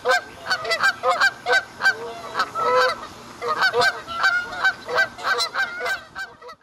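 Canada geese in an urban park call in repeated loud, nasal honks, several birds overlapping in an irregular chorus that rises and falls close by.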